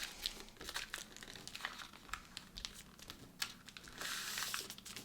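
Paper being folded into a paper airplane, close crinkling and soft creasing rustles with irregular crisp snaps, fairly quiet throughout.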